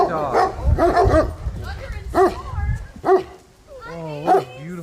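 Several dogs bark, yip and whimper in short bursts close by, while people talk excitedly over and between the calls.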